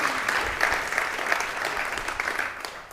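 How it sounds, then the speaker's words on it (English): A podcast audience gives a round of applause, a dense, even wash of clapping from many hands that holds steady throughout at moderate volume. "let's give Chris another round of applause, everybody."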